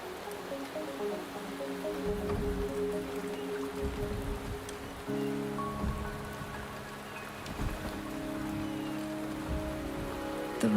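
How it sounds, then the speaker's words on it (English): Rain falls steadily in the Wuthering Waves video game, a continuous soft patter over a low sustained musical drone, with no voices. "The rain is subsiding, and the sky will soon clear."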